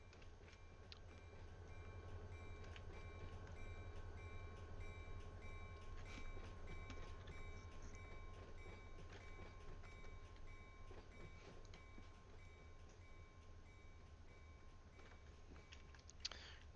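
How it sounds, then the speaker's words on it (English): A Bare Tables freight train rolls past in the Run8 train simulator, a steady rumble with rail clatter that holds for the whole stretch, close and even, with a sharp knock near the end. "Here comes a Bare Tables train."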